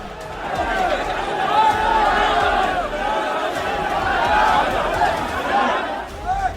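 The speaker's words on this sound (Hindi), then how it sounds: "दो समुदाय आमने सामने। स्कूल के बाहर जमकर हंगामा हो रहा है, नारेबाजी की जा रही है।" Angry crowd massed outside a school, a dense roar of many overlapping shouting voices and chanted slogans, loud and sustained with surges of yelling that rise and fall throughout.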